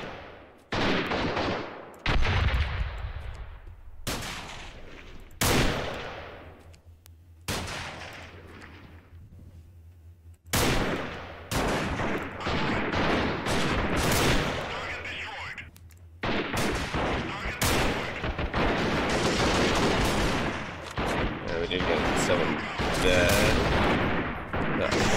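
Gunfire in the video game Freeman Guerrilla Warfare: loud, dense bursts of automatic rifle and machine-gun fire in repeated volleys, close and sustained, with a few short pauses and some talk over it.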